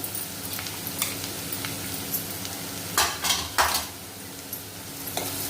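A spoon stirs chilli powder and cumin powder as they sauté in a pan, with a steady soft sizzle under scattered scraping clinks of metal on the pan, a few louder scrapes clustered in the middle.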